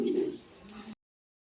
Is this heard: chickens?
no